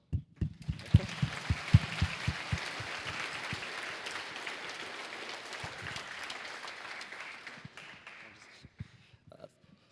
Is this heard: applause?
yes